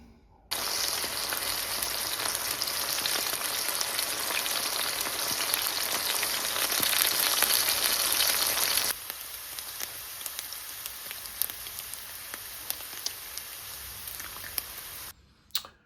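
Bacon frying in a pan gives a steady, dense crackling sizzle, loud for the first nine seconds and then a softer hiss with scattered pops, with no talking.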